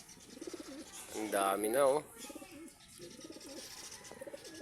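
Breeder pigeons coo in soft, rolling bursts, one clear louder coo in the middle, close by, while someone talks over them.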